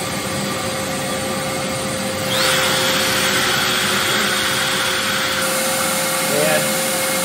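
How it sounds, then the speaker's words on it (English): A CNC router and its dust extraction vacuum run steadily while cutting a Stratocaster-style guitar body, a continuous high whine and broadband roar with a step up in intensity partway through. "And then we'll turn the router on."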